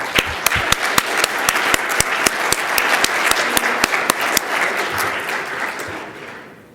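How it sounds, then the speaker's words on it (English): Audience applause for retiring board members at a network operators' community meeting: a steady wash of clapping from a crowd, loud and sustained with a few sharp nearby claps standing out, then fading toward the end. "give a huge round of applause to Dwayne Wessels and Sylvie"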